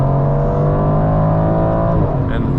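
A 2021 Aston Martin Vantage Roadster in Sport Plus mode revs under throttle from inside the cabin, a loud steady engine drone with a rising pitch, heard alone and close.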